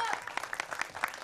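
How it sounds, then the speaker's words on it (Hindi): Brief, faint applause from the audience at a film music launch, a quick patter of scattered claps with a voice over it. "जोरदार तालियों के साथ please welcome our producer"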